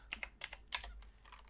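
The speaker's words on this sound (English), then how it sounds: "I'm still not used to this keyboard yet" Brisk typing on a computer keyboard, several sharp key clicks in quick uneven bursts, close and fairly quiet with no one talking.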